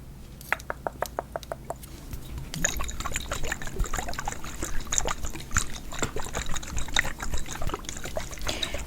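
A liquid elixir trickles and pours up close with fine splashing, first as a string of evenly spaced drips, then as a fuller, continuous flow.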